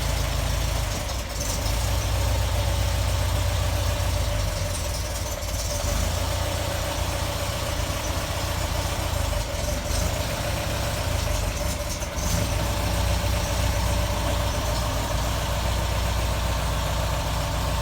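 A car engine idles steadily on its first drive. The low, even rumble stays constant and close with a slight knocking texture, and no one speaks.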